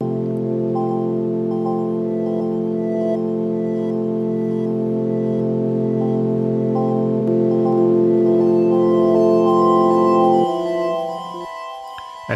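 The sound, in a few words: 2002 MicroKorg ambient layers played together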